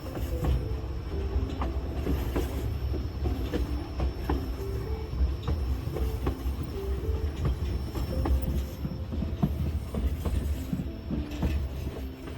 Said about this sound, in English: that train all along